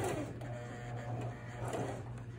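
A sewing machine stitches fabric in a steady, faint, continuous whirr with a low mechanical hum throughout.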